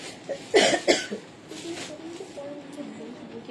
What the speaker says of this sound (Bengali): কাশি হচ্ছে কেন?